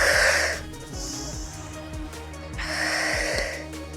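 Heavy, audible breaths in and out repeat in a slow cycle during a high-intensity Tabata workout, with rhythmic thuds of movement underneath, close and fairly loud.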